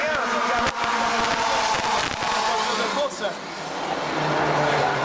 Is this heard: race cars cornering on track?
yes